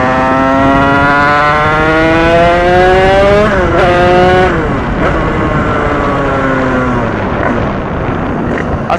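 A vehicle engine warming up idles loud and close with a rich harmonic hum, then briefly revs up and settles back, holding a steady drone throughout.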